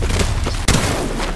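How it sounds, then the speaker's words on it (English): A grenade blast in the Apex Legends video game, one sharp boom mid-clip over a constant dense rush of game noise. "Throw my grenade out."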